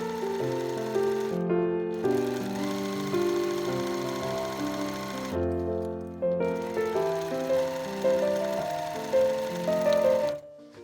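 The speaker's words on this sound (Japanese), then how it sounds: "表を縫う時はちょっと例外で、この底から縫っていきます。" A sewing machine stitches the outer fabric of a lined shoulder bag with a caramel-style base, working up from the bottom. It runs as a steady, close mechanical buzz, broken by two short pauses, with no talking.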